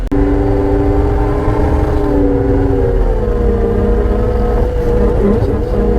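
A John Deere skid steer with a suspension system rolls across a driveway into gravel, its engine a steady, continuous hum with a low rumble throughout, close and fairly loud, with no voices.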